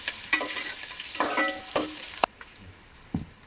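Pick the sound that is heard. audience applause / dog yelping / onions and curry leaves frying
onions and curry leaves frying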